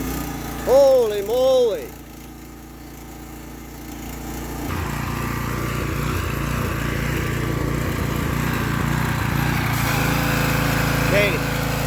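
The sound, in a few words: gas engine of a power washer starting and running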